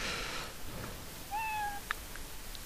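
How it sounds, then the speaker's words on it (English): A cat meows once in the Xbox Live avatar editor, a short, clear, close mew with a rising-then-falling tone and no talking around it. "Cat."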